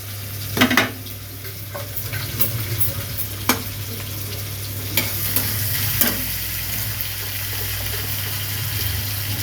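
Chopped onions, salted to soften faster, fry in a wok alongside egg and soybean with a steady hiss and sizzle, broken by a few sharp clinks of stirring close by.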